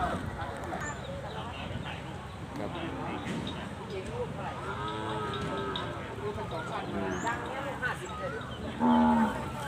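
Cows are mooing at a busy Thai cattle market, with low, drawn-out calls rising over steady crowd noise. People talk close by throughout, and one brief, clearer tone stands out near the end.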